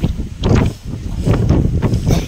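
Strong wind buffeting an exposed hilltop campsite at night, with loud gusty roaring and rumbling noise that swells and eases in waves throughout.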